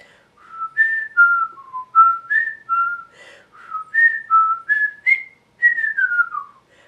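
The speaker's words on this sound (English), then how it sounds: "I don't usually whistle that long." A person whistles a long melodic tune alone indoors, a steady run of clear sliding notes and short phrases lasting several seconds, close and fairly loud with brief pauses between phrases.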